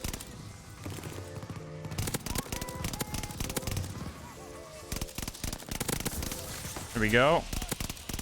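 Rapid AS44 gunfire bursts in the shooter game Call of Duty Vanguard, sharp repeated shots with a rising weapon whine, heard beneath someone talking over the game action.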